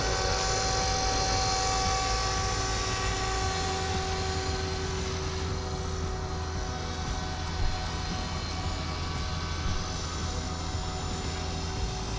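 An RC EC135 scale 450 model helicopter fitted with GPS hovers and flies slowly nearby, its rotor and motor producing a steady high whine with a constant buzzing drone that never lets up.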